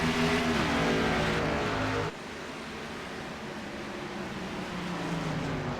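Stock car engines roaring together in an iRacing sim race as the field restarts under green, a loud steady multi-car drone that drops slightly in intensity midway, then holds continuous.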